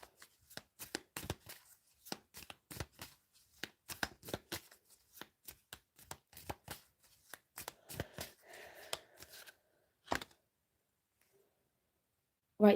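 Tarot cards being shuffled by hand nearby: a steady series of soft slaps and flicks, with a short riffling stretch near the end, then a pause before one last snap.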